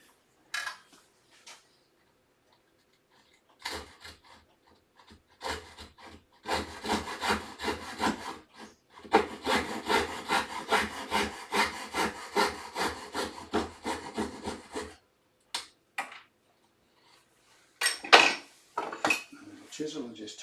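Hand saw cutting wood for a dovetail joint on a sewing table, a few tentative strokes, then a long run of steady rasping back-and-forth strokes, followed by scattered scrapes and knocks in a quiet room.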